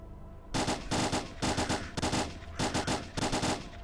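Automatic weapon fire in S.T.A.L.K.E.R. Clear Sky, four loud sustained bursts of rapid shots separated by short gaps, close and dominant with no talking.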